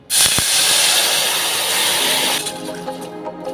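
Tamarind pulp poured into hot oil: a loud, steady sizzling hiss bursts up at once and holds, then eases into softer crackling toward the end; no voices.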